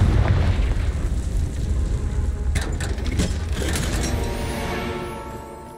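A Confringo blasting-curse explosion in a Harry Potter video game, a loud booming roar with crackling bursts in the middle that fades slowly into a rumbling tail.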